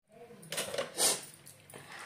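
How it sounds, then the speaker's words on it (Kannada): A metal pot is rinsed out before milk is boiled in it, giving soft clinks and scrapes with a bright splash of metal in the middle, close and fairly quiet. "ಹಾಲು ಕಾಯಿಸೋಕ್ಕೂ ಮುಂಚೆ ಈ ರೀತಿಯಾಗಿ ಒಳಗಡೆ ಪಾತ್ರೆನ ತೊಳ್ಕೊಬೇಕು."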